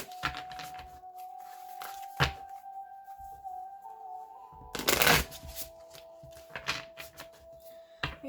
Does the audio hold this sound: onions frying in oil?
no